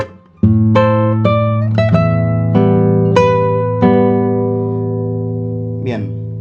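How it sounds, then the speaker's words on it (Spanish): Opening phrase of a tango played on a solo classical guitar, a bass note followed by a series of plucked chords and melody notes ringing close and clear, ending with a soft string squeak. "La primera frase suena así."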